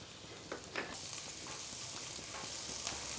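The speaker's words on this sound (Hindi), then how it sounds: "लहसुन को बहुत ज़्यादा जलाना नहीं, आपने चम्मच चलाते हुए थोड़ा सा फ्राई कर लेना" Garlic chunks frying in oil in a pan after cumin, a soft continuous sizzle with a few faint spoon stirs, quiet and alone.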